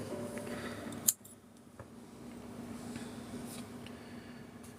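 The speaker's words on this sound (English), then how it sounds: "We'll snip these down." Scissors snip yarn ends on a knitted bag with a leather bottom, one crisp close cut followed by quiet handling noise, faint and alone.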